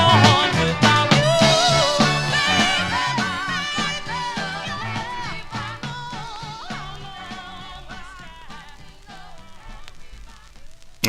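A 1968 Chess Records soul 45 plays from vinyl, a dense, full-band recording with vocals and rhythm, loud at first and gradually easing off as the song fades toward its end.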